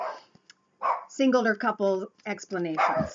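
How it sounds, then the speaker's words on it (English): A dog barks repeatedly in a quick, irregular series of sharp, close barks and yips, mixed with a person talking. "pardon my dog"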